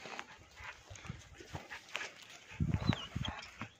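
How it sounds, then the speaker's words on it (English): An unhappy hunting dog on a farm, moving and vocalizing in short low bursts near the close, over scattered scuffing noise and a faint whistle-like tone. "Hunting dog's not happy."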